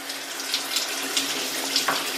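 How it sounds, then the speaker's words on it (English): Water runs from a shower whose handle has broken off, a steady hissing spray with small splashy surges, close and continuous, no one speaking. "I hear my shower dripping, so I go to turn the handle, and what happens? Fucking handle breaks."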